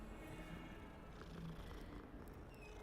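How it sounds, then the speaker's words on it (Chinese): A cat purring in the video game Hogwarts Legacy: a steady, continuous low purr that runs unbroken at an even level throughout, with no talking over it. "哎，有东西，猫咪"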